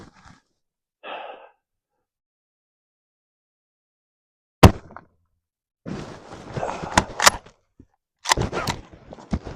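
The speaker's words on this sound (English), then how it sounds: "we're shooting at a, I think it's a half-size IPSC steel at 100" Mosin-Nagant M91/30 bolt-action rifle firing at a half-size IPSC steel target at 100 yards in winter: a single sharp, loud shot, followed by scattered handling clicks, rustling and shuffling nearby.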